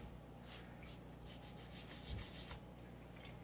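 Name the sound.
wiping thermal paste off a CPU cooler block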